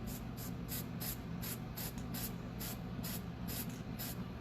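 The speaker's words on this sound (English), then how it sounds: "Rotate as you spritz." Rhythmic bursts of an aerosol spray can painting a pen-turning tube blank, roughly a dozen short hissing spritzes in steady succession, close and alone over a low steady background hum.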